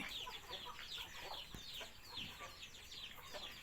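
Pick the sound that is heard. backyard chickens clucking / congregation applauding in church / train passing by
backyard chickens clucking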